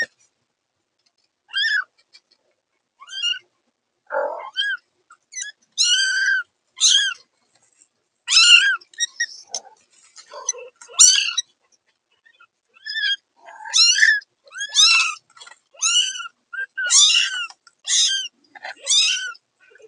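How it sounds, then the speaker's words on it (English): Several young animals mew in high, thin bursts, overlapping into a busy chorus with short pauses between flurries of calls. "they erupt in a chorus of meowing"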